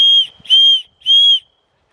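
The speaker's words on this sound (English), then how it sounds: "So here's the whistle, let's test it out." A small whistle on a 5-in-1 survival kit bracelet blown three times in quick succession, each blast shrill, loud and close, with short pauses between.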